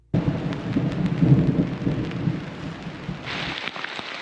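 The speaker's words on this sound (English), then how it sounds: "We experienced some pretty crazy thunderstorms, gusts of wind, pouring rain, and hail." Steady pouring rain with deep rolling thunder rumbling through on a lake canoe circuit, a heavier hiss of rain swelling near the end; no voices.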